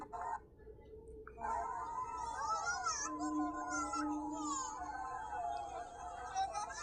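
A pitched-up, childlike processed voice babbles and whines continuously, sounding like a small baby.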